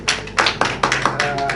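Rhythmic clapping at a Father's Day church service: sharp, evenly spaced claps about four or five to the second, fairly close, with faint voices underneath.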